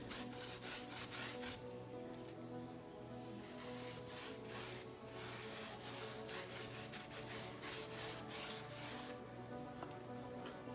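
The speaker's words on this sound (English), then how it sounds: "we're just wiping it off with a nice clean rag" A clean rag wiping sealer off natural stone on a DIY electric fireplace build, heard as steady, soft rubbing and scrubbing strokes in a quiet close-up, repeating rhythmically throughout.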